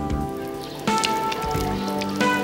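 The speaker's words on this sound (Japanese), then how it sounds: "例えばこの道路で水をまいてみます。" Water is sprinkled onto a paved road, giving a patter of drops and splashes that hits in small bursts across the surface, fairly close and with no talk.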